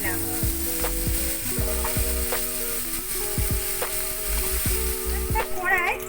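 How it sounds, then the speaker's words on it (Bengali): Cut potato pieces and onion fry in oil in a wok with a steady, loud sizzle, punctuated by scraping stirs and clanks of the spatula against the pan. "এবারে এতে টুকরো করে কেটে রাখা আলু"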